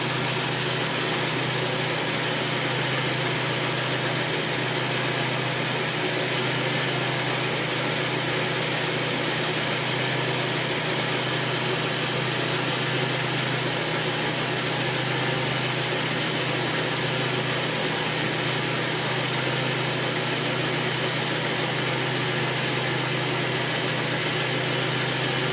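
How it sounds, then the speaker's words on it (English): A 2004 Nissan Frontier pickup idles steadily, its engine running continuously with a constant low hum and hiss from the air-conditioning, close by and unchanging throughout. "the engine's been running for a while"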